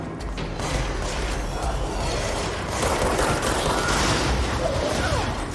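Gunfire in the video game Control comes as a dense, continuous rattle of shots and clanking mechanical noise. It stays steady and fairly loud throughout, with no talking.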